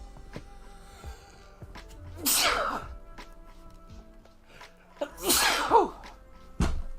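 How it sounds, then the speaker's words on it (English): Two loud sneezes, a few seconds apart, close to the microphone, with quiet movement and background noise between them. "I'm gonna sneeze."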